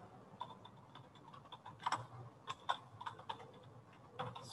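Irregular clicking keystrokes on a computer keyboard as a heading is typed into a spreadsheet, a quiet, close run of taps with short pauses and a few sharper strikes, no voices.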